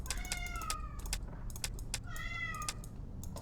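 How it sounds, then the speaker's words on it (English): A cat meows twice at close range, each meow a drawn-out wavering cry, with faint clicks and a low background rumble in a quiet room. "why do you meow at the walls?"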